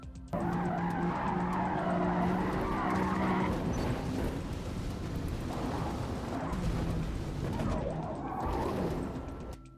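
A BMW slides sideways through corners in the Forza Motorsport racing game, with a loud continuous tire squeal and skid over engine drone that wavers in pitch throughout.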